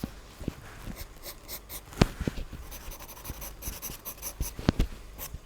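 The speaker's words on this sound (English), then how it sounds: "I'm drawing on, I think, canson paper now" Pencil or charcoal being drawn and smudged with a finger on Canson paper, producing soft continuous scratchy strokes with scattered sharper taps and scrapes, close and fairly quiet, with no talking.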